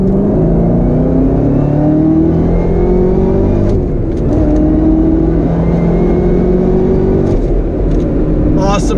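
A 2019 Chevrolet Camaro ZL1 1LE on a track, its engine loud and close as it accelerates hard, with rising revs, quick gear shifts and repeated climbs in pitch.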